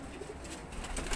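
A pigeon, one of the low-flyer breed kept by a fancier, gives a soft, brief coo, faint and a little distant, with no voices over it.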